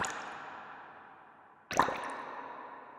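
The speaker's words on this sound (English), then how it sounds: "the noise is now playing this blowing bubbles preset, which has again been EQ'd there" Blowing-bubbles noise preset from the NoiseShaper synth, EQ'd, heard alone: a soft bubbly wash that thins out, then a sudden wet plop or gurgle before settling back into a steady hiss.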